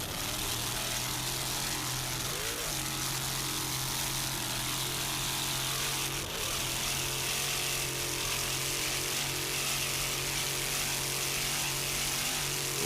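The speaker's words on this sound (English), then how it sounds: "Blue Thunder engine doing its job" Blue Thunder 650-horsepower engine of an A-class offshore racing powerboat at the Suncoast Offshore Grand Prix, a constant loud droning roar with a steady low hum running unbroken throughout.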